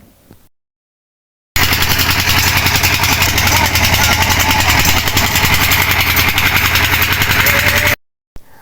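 A motor trawler's engine runs steadily and loudly on a river crossing to a char, with a constant, unbroken drone that starts abruptly and then cuts off near the end. No voices are heard over it.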